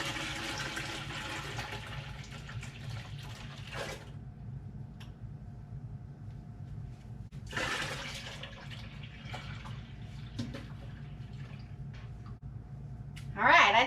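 Raw milk and leftover cream poured from jars into a cooking pot for homemade cream cheese, a steady liquid pouring and splashing in two close bursts, with a voice speaking between them.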